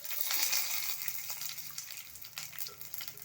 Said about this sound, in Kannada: ಈಗ ನಾವು ಮಾಡ್ಕೊಂಡಿರೋಂಥ ಒಗ್ಗರಣೆನ ಇದಕ್ಕೆ ಸೇರಿಸ್ತಾ ಇದ್ದೀನಿ